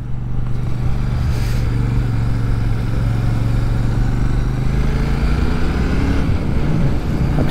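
Royal Enfield Shotgun 650 engine under way while riding, a steady low rumbling drone with a slight rise in pitch toward the end, close and continuous with wind noise.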